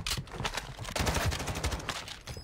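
Rapid bursts of gunfire in an online shooter video game, dense automatic fire crackling throughout with a few louder close shots, no talk over it.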